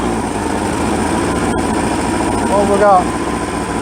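A classic tractor engine runs steadily for mowing, a constant close mechanical drone that carries through the whole stretch while someone talks over it.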